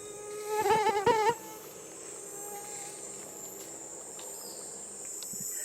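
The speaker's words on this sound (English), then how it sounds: "Did I mention the mosquitoes?" A close, high-pitched mosquito whine rises and wavers for about a second, then fades into steady, faint background hiss and distant insect hum in the Cuyabeno Reserve jungle, Ecuador.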